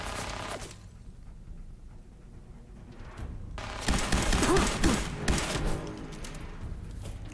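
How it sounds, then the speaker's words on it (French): Gunfire in the video game Fallout 4, with shots fired into walls: a short burst, a quieter lull with scattered thuds, then a dense loud volley of rapid shots. "Je tire dans les murs."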